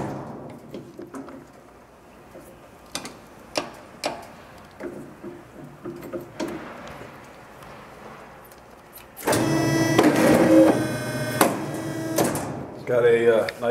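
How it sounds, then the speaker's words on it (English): A hydraulic paper cutter with a manual clamp and digital readout runs an automatic cut, a loud steady mechanical whir lasting a few seconds after quieter clicks and handling noises, with short pops at the end. "It's a manual clamp, so you turn it down. Automatic cut."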